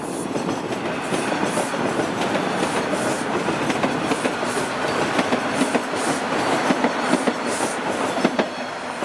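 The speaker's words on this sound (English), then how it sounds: "we got a northbound train here." A northbound subway train on Yonge Street in Toronto rumbles past nearby, steady and loud, with rhythmic clickety-clack of wheels over the rail joints throughout.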